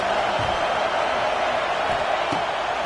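Stadium crowd noise in a College Football 26 video game swells steadily behind the defense on a big third down, a dense continuous roar with a couple of brief thumps poking through.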